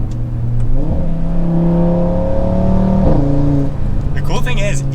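An Audi RS3 full exhaust revs up and holds a deep, droning tone, then blips again, loud and close, with a short higher-pitched whine near the end.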